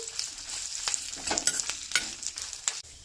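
Coriander and cumin fry in oil, giving a gentle, continuous sizzle with intermittent stirring scrapes and small pops, fairly close and moderately quiet.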